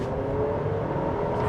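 A 2026 GMC Acadia Elevation accelerating in second gear, a steady engine hum with a rising tonal whine over a brief stretch, heard from inside the cabin with no talking.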